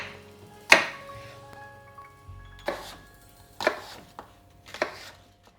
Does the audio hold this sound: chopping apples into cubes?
yes